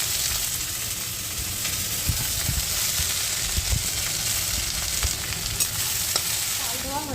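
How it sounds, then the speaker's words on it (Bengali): Leafy greens stirred and frying with onion in oil in a wok, giving a dense continuous sizzle with repeated spatula scrapes and knocks, close and loud without talk. "তার উপরে দিয়ে দেবো শাকটা"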